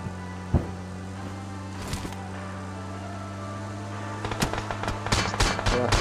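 PUBG gunfire: distant single shots early, then a rapid cluster of sharp cracks near the end over a steady low engine-like drone, with no talking.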